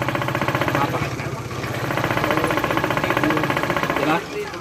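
A motorcycle-type engine with its oil drained keeps running in a friction lubricant demonstration, a steady rapid mechanical chugging and knocking held close and loud throughout, easing off near the end.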